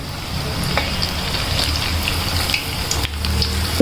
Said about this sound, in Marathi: एक एक करून त्यामध्ये बनवलेले बॉल्स सोडायचे आणि व्यवस्थित हलक्या हाताने तळून घ्यायचे